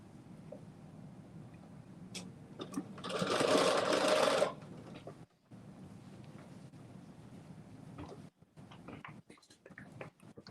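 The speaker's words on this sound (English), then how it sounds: "I'm just going to sew this one just like this" Sewing machine stitching fabric for ruffle pants, a steady close whir running for a couple of seconds among quieter handling noises in a room.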